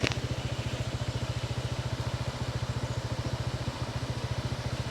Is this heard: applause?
no